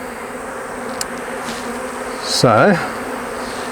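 Worker honey bees buzzing at an open hive frame make a steady, close insect hum that runs the whole time, with one brief spoken word partway through.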